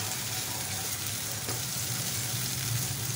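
Tomatoes frying in hot mustard oil, a steady close sizzle with no talking.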